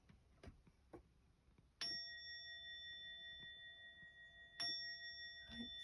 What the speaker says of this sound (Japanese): じゃあ鐘鳴らすよ